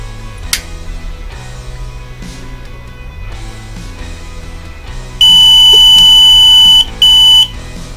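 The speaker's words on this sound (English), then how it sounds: "we detected the fire and it sounded a buzzer" Buzzer of a Raspberry Pi fire detector that uses image processing, a loud, piercing electronic tone sounding steadily for about one and a half seconds, then a short break and a second shorter burst, after a quieter stretch of background hum.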